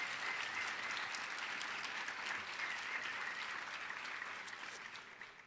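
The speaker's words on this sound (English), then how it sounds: "Could we have another round of applause for Madia and Liz?" A seated conference audience at a leadership summit panel gives sustained applause, a dense even patter of many hands that holds steady and then tapers off slightly toward the end.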